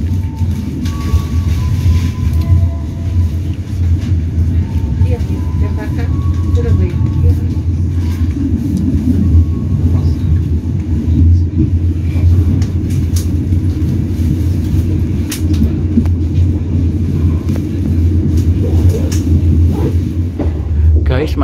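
Serayu passenger train running toward Bojong station at night, a steady loud low rumble of wheels and carriage noise continuing throughout, with faint clatter and occasional voices in the background.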